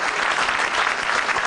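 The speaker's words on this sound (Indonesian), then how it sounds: "tepuk tangan buat stand up Metro TV." A stand-up comedy crowd at Metro TV breaks into applause, a brief, loud, dense burst of clapping filling the room with no talk over it.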